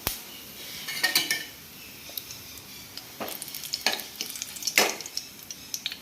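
Cumin seeds and spices crackling in hot oil for a Telugu brinjal dish, a close fizzing sizzle with bursts of popping and several scraping stirs and metallic clinks of a spoon on the pan, no talking.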